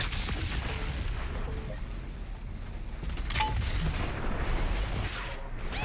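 BFG 10,000 firing in Doom Eternal, a dense rumbling barrage of booming, gunfire-like blasts layered with game effects, loud and continuous with no speech.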